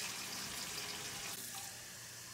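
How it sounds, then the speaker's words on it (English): Water runs steadily from a tap into a large canning pot for water bath canning, a soft continuous rushing that tapers slightly near the end, heard alone and fairly faint. "you'll wanna fill up the jar with water all the way about an inch or two above the jars."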